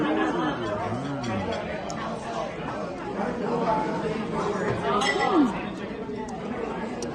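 At a Chinese New Year meal in Chinatown, glasses clink in a toast amid lively table chatter and overlapping voices.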